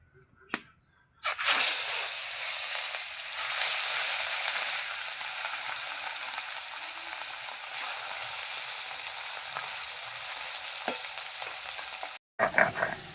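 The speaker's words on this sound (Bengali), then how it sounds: "এবার মাছগুলো ভেজে নেব।" Katla fish pieces, rubbed with salt and turmeric, drop into well-heated oil and sizzle loudly and steadily for several seconds after an initial splash, with a short pause before the frying noise resumes.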